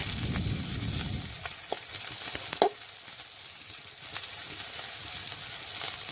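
Pieces frying in hot oil in a pan while being turned, giving a steady close sizzle with a few sharp spatula clicks along the way and no talking.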